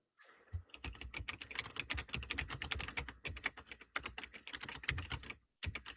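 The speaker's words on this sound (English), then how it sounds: "I'm typing something really quick" Rapid typing on a computer keyboard, a dense run of close, crisp key clicks with brief pauses, continuing steadily alone without talk.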